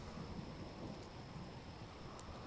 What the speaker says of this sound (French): il y a une pluie torrentielle, tempête pluvieuse